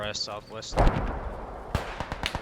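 A deep, heavy boom bursts out after a brief electronic tone, followed by several sharp cracks and a rumbling tail, a Panther tank exploding in a video game.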